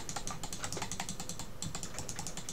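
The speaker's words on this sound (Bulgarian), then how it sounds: "сериозно ли ще съм с повредена клавиатура" Rapid, steady typing on a damaged computer keyboard during a League of Legends URF session, dense clattering keystrokes continuing throughout with no voices.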